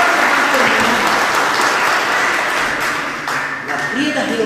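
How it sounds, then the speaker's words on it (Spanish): Loud, dense applause from an audience fills the whole stretch, continuous and close, thinning briefly toward the end before swelling again. "Fuertísimo el aplauso"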